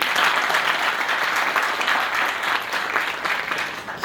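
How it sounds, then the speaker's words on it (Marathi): An audience at a college road safety awareness event claps loudly, with dense, steady applause that holds for a few seconds and eases slightly near the end. "मग त्यांच्यासाठी जोरदार टाळ्या कोण वाजवतात?"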